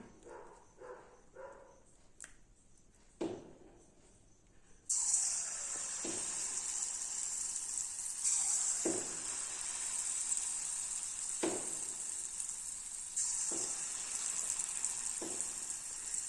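Bonda batter dropped into hot oil in an iron pan sets off a loud, steady close hiss of frying, with a few knocks from a utensil before and during the sizzle.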